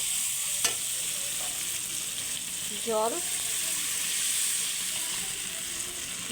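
Water poured into a sizzling pan of chopped green chillies and tomato for a spicy parshe fish curry, giving a steady close hiss with a brief bubbling gurgle partway through, no voices.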